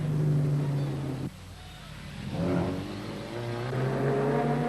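Racing cars on a road circuit roar past with engines revving and droning, a loud engine note dipping briefly then swelling again, nearby and continuous.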